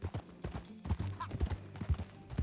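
A horse in the Red Dead Redemption 2 video game clip-clops along in a steady walking rhythm of close hoofbeats on a hard surface, with faint background sound and no speech.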